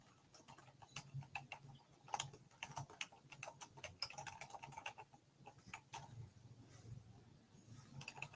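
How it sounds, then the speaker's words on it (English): Soft, rapid clicking of typing on a computer keyboard comes in irregular bursts of keystrokes, quiet and close, with no speech. "sound like you were typing"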